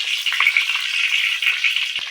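Fish fries in oil in a clay pot, giving a steady, close sizzle with small crackles and a brief knock near the end, with no talking.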